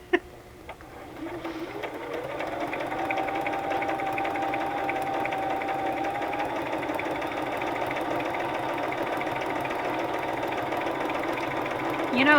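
A sewing machine stitches a zigzag through the pages of a tall, skinny handmade journal, a steady close mechanical whir with rapid rhythmic clatter that ramps up in pitch and holds for several seconds.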